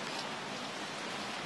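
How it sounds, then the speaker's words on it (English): Rain falls steadily during a lightning storm, a dense, even hiss of constant moderate loudness with no voices. "You can see the rain coming down."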